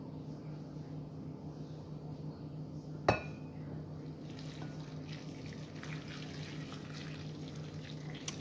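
A single sharp clink, then broth pours softly and steadily into a pot for a tofu soup with spinach, faint and close, with no talking.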